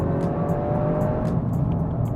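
Toyota GR Yaris on wider Yokohama tyres and wheels during a road test, a steady engine hum with road and tyre noise heard from inside, short and continuous, no talking.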